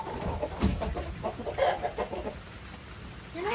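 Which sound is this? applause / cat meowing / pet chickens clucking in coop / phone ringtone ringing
pet chickens clucking in coop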